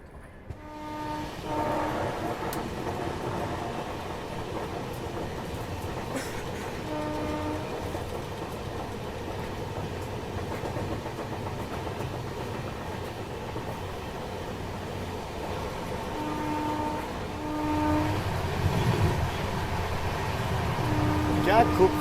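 The Marudhar Express pulls out of a junction station with a steady rumble of rolling wagons and a few clanks, while sustained horn blasts sound near the start and again toward the end.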